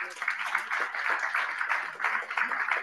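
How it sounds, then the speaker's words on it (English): Applause from a meetup crowd for the evening's host, a dense, even patter of clapping that carries on throughout, with a voice faintly underneath. "And another big round of applause to Thought Machine,"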